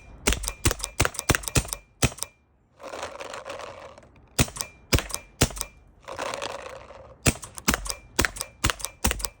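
A CCM Series 5 pneumatic paintball marker fires in quick sharp cracking bursts, single shots and rapid strings, close and loud, with two stretches of hissing air in between.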